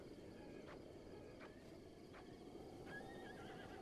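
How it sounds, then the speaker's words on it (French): Several short horse whinnies from a horse in the video game Zelda: Breath of the Wild ring out over a steady low rumble, spaced apart across the clip, with no talking. "Mais oui, c'est un cheval."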